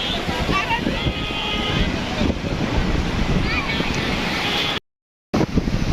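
Big sea waves breaking on Patenga beach in Chattogram, a constant roaring wash of surf under strong wind buffeting the microphone, with a brief dropout near the end.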